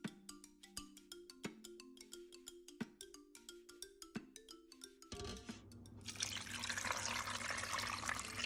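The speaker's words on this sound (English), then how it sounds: "Next, add water to just cover the contents of the pot." Water pours from a tap or jug into a stock pot of beef bones for homemade beef stock, a steady rushing splash that builds loud and continuous after a few sharp clunks of ingredients being set in the pot.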